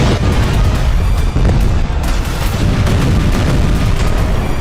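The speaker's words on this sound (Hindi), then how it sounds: "प्रेसिडेंशियल कॉम्प्लेक्स के नजदीक हुए इन धमाकों से वहां हड़कंप मच गई।" Missile explosions near the presidential complex in Tehran, a loud, dense barrage of booming blasts and rumbling bursts that fills the whole stretch with continuous heavy noise and no speech.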